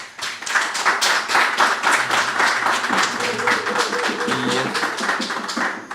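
An audience applauds their parliamentary representative at a gathering where 42 small businesses in Laudat receive financial aid, a dense, even round of clapping from a moderate-sized crowd, close and steady, with faint voices underneath.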